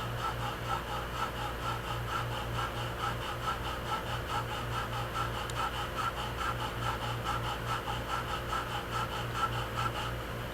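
A 20 mm metal sizer turned by hand inside the eye socket of a Tete Jumeau bisque doll head, giving a quiet, steady scraping and grinding with a regular rhythm that runs on without talk.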